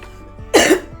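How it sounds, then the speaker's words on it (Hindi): A single sharp, harsh cough bursts out close and loud after a moment of quiet background. "ये खांसी तो है ही, कम वक्त परेशान कर रही है"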